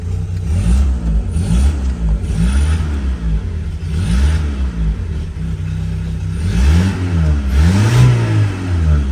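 A 1986 Honda Civic wagon engine idles close by, its loud, throbbing mid-low rumble wavering slightly unevenly in steady pulses, with no one talking.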